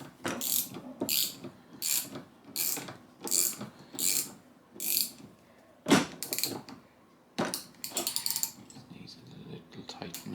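A bolt on a Lee APP press is tightened with a crescent wrench, giving a series of close metallic grinding, ratchet-like bursts in a regular rhythm, then a short pause and a final busier stretch.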